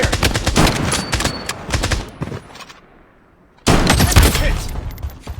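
Rapid automatic gunfire in the online shooter BloodStrike, loud bursts of dense shots that drop away for about a second and a half of near quiet, then resume abruptly at full strength.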